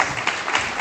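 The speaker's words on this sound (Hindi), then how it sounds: "जोरदार तालियों से स्वागत किया जाए अलका जी का।" Applause at a nursing students' award ceremony greets a guest on stage, a brief, dense burst of many hands clapping from a crowd in a hall.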